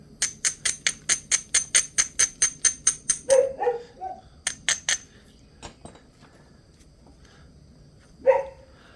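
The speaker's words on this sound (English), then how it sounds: "Oh, those barking dogs." Dogs bark a few times, once briefly mid-clip and again near the end, after and between a run of sharp, rapid rhythmic clicks.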